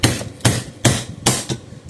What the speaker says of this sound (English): just give it a few good whacks pretty hard, and it'll bust them out of there